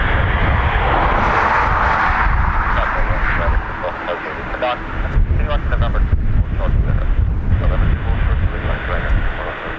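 An airplane at Dublin Airport roars as a broad, steady rumble mixed with wind buffeting, while people talk over it nearby.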